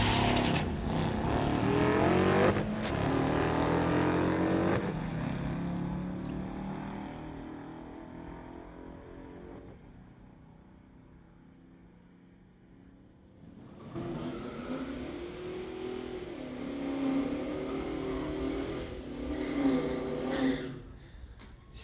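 A 1999 Ford and a 2010 Hemi launch in a street-legal drag race, engines roaring loud and close before fading into the distance, then a second loud engine surge returns near the end.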